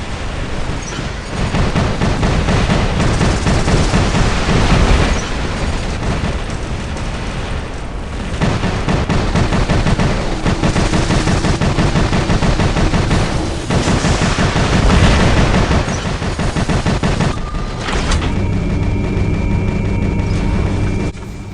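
Rapid gunfire bursts and explosive booms fill a solo game battle against Titan mechs, loud and nearly continuous, with heavy low rumbles and a brief tonal hum near the end.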